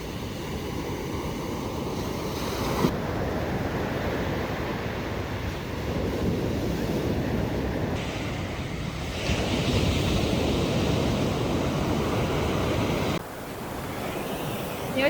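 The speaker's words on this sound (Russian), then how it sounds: "Посмотрите, какие волны." Ocean waves break steadily on the beach at Nha Trang, a broad continuous roar of surf with wind rushing across the microphone, loud and close throughout with no voices.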